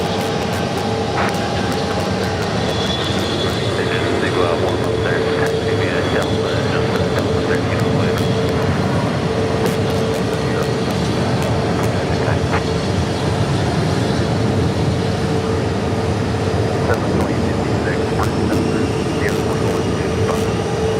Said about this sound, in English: Southwest Airlines Flight 3035 coming in from Seattle